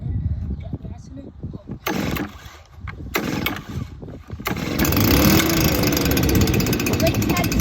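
A small engine with an auto-reset choke, primed and choked, cold-starts with rough pull bursts and then catches into a loud steady run, with people talking over the early pulls.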